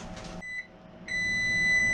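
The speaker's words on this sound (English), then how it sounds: "Oh, timer went off." A kitchen timer sounds while potatoes low-boil on the stove for gizzard gravy and mashed potatoes: a steady electronic beep tone starts partway through, breaks briefly, then holds on loud and continuous, with no talk over it.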